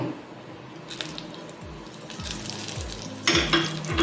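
A small pinch of asafoetida drops into hot oil in a pan with the stove just switched off, setting off a close, crackling sizzle with light stirring and a brief louder spurt near the end.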